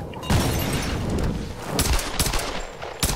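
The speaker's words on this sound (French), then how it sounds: "Ouais, je kiffe le bruit du flingue par contre." Gunfire in the Tomb Raider video game, a loud close burst of rapid shots followed by several more sharp reports and booms with mechanical clatter. No one talks over it.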